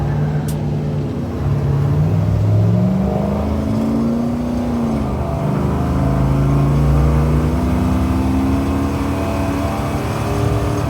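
The engine of a K5 Blazer pulls steadily at half throttle, a loud, close, continuous drone whose pitch climbs through the gears as the truck gathers speed, with no voices over it.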